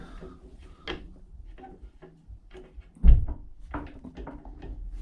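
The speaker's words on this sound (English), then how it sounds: "I've found the knocking sound" A single sharp knock sounds midway from a loose suspension top link on a Peugeot 205 GTi Mi16, a short hollow metallic thud standing out above background noise and quieter clicks and rustles around it.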